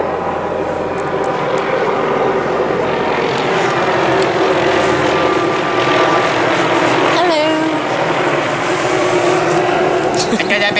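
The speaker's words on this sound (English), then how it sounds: "And there's a helicopter, and I apologize for that as well." A helicopter passes directly overhead outdoors, a loud, steady rotor and engine roar that fills the whole stretch without fading.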